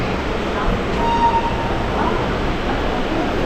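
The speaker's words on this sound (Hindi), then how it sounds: "यह है जन शताब्दी एक्सप्रेस का इंटीरियर।" Steady rumble and rattle inside a moving Jan Shatabdi Express second-seating coach on the Patna to Howrah route, continuous and close, with voices heard over the running noise.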